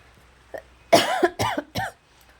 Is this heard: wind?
no